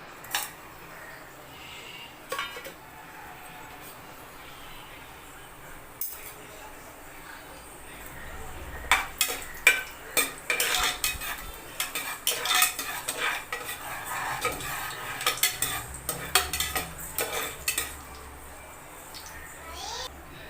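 Whole cinnamon, cloves, cardamom and fennel seeds frying in hot oil for a mushroom biryani, a low sizzle broken by frequent scraping and clinking of a spoon against the pan, busier in the second half.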